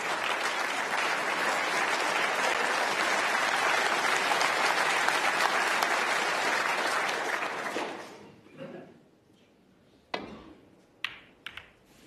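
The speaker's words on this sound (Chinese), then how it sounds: "掌声。" Audience applause at the 2022 World Snooker Championship semi-final fills the hall in a sustained, even wash for about eight seconds, then fades to a few scattered claps and taps.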